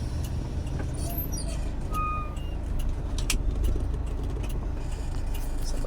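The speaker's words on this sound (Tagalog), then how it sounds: "Medyo traffic ngayon kasi Sabado." Road traffic heard from inside a moving car on a Saturday evening drive home to Pampanga: a steady low engine and road rumble throughout, with faint light jingling and passing vehicle sounds on top.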